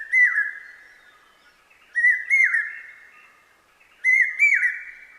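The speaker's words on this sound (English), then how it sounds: "The brain fever bird's incessant calling proclaims the arrival of summer." A common hawk-cuckoo, the brain fever bird, calls three times in a row at even intervals of about two seconds. Each call is a loud, clear, rising whistled phrase, and there is no talking.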